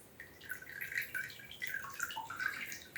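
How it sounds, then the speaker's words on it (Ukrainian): Water from a freshly watered orchid pot drains away in a faint, steady trickle with light dripping, close by and otherwise quiet. "Хочу, щоб водичка вся стекла."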